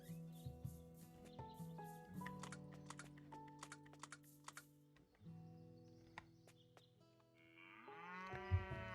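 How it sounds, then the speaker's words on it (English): A cow moos in the farming game Doraemon Story of Seasons, a soft low call amid game music and clicking keyboard typing, quiet and with no speech over it. "Then go get our cow."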